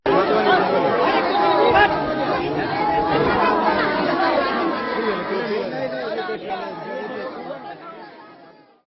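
A large crowd of villagers chatters at an outdoor gathering in Madhubani district, producing a dense, continuous murmur of many overlapping voices close by, fading out at the end.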